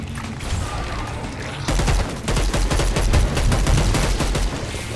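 A machine gun in Dead Island 2 opens up in a sustained rapid burst, loud close shots rattling steadily after a quieter opening stretch.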